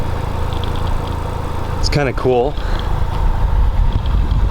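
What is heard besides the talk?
Ford Focus RS exhaust idling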